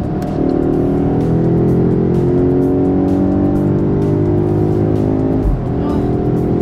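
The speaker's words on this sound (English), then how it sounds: "It sounds like a freaking race car." A powerful SUV engine revs hard and loud like a race car, a steady high-pitched roar with rising harmonic sweeps that holds for several seconds, then drops briefly before building again.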